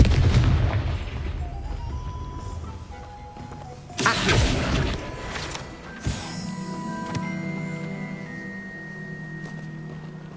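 The Confringo blasting spell from the game Hogwarts Legacy goes off in sharp booming bursts, a loud blast around the middle followed by a second impact and ringing, tonal magical effects that fade out.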